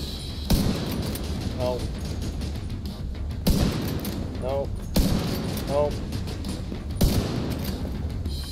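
Heavy gunfire from a revolver in The Division 2 comes as four sharp, loud shots, each with a booming tail, spaced a few seconds apart over steady game noise, with someone talking between them.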